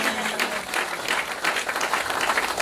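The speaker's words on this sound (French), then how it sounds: "Est-ce que quelqu'un peut acclamer le Seigneur pour ça?" A church congregation applauding to acclaim the Lord, dense and sustained clapping from a large crowd, loud and continuous throughout.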